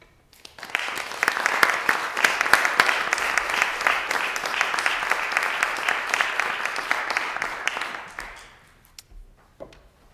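A lecture audience breaks into warm applause to welcome two visiting professors, dense sustained clapping that rises quickly, holds for about seven seconds, then thins to a few scattered claps.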